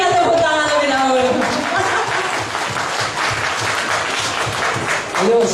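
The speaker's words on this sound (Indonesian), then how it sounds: "Berikan tepuk tangan lebih dahulu." Seminar audience in a hall applauds after a speaker's call, a steady wash of clapping that continues for several seconds with voices and laughter mixed underneath.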